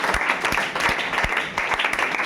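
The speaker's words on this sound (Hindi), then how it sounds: "ताली मार देगा इसके लिए।" A small group of students claps in a classroom, a short burst of scattered, uneven hand claps at close range, lasting only a couple of seconds.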